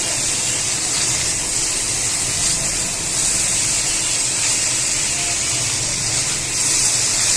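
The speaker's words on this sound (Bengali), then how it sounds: "আমি চুলার আঁচটা কিন্তু হালকা তাপে রেখেছি কারণ হালকা তাপে ধীরে ধীরে ভালো করে ভাজি হবে" Bitter gourd and potato frying slowly in a pan over low heat, giving a steady, even sizzle and hiss that holds at moderate loudness throughout with no talking.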